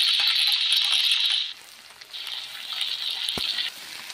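Marinated pigeon meat with bay leaf, onion and chilli sizzles in a kadai, a bright frying hiss that drops away briefly, returns, then softens, with a small clink partway through.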